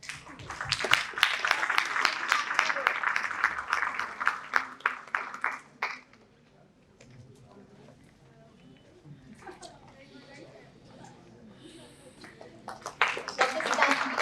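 Audience applause at a women's leadership health-innovation conference session, dense loud clapping for about six seconds before fading out, followed by quiet room murmur and a fresh burst of clapping near the end.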